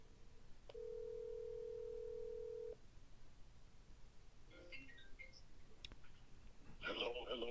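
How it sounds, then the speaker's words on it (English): An iPhone placing a call on speakerphone through Siri: a steady electronic tone holds for about two seconds, then quiet, faint chirps and a brief click at low volume. "Hey Siri, call Bob Wood mobile on speakerphone."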